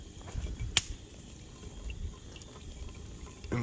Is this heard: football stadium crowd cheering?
no